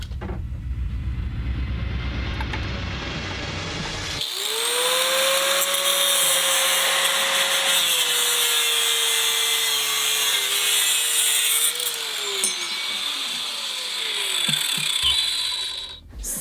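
An angle grinder cuts a section out of a camera-building project, starting abruptly as a loud, steady high whine that sags slightly in pitch under load, then spins down near the end.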